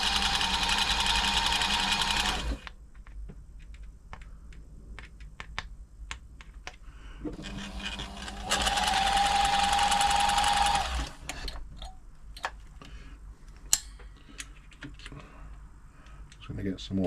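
An all-mechanical Toyota 2600 sewing machine, out for servicing, running in two steady, close whirring bursts, with clicks and handling noises in the quieter stretches between them.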